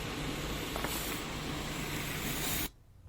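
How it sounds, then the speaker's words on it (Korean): A fogging disinfection machine runs inside a used Kia Stonic SUV before delivery, giving a loud, steady close hiss that cuts off abruptly near the end, leaving a quiet room. "그리고 이렇게 출고 전에 연막 소독을 해드리는 거죠"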